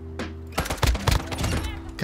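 An automatic Desert Eagle pistol in a video game fires a rapid, loud, close burst of shots in a dense volley lasting about a second and a half.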